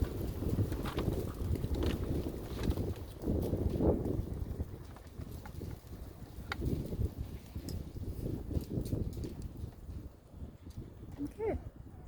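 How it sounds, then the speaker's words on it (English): Strong wind gusts rumble and buffet the microphone continuously, with rustling and faint distant sounds mixed in. "as you can tell, it is super windy"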